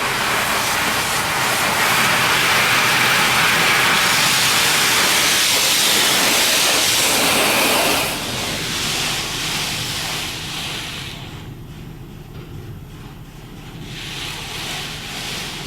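A D&S 5000 automatic car wash machine runs in Lake Ozark, Missouri, with loud rushing water spray and blowing noise that eases after about eight seconds into a softer whoosh.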